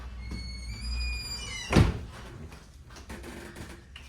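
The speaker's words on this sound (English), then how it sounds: "Very creaky floors like Grandma's house." Single loud creak and thunk from an old wooden floor in a historic house, one sharp sound standing out against a quiet room with faint background noise.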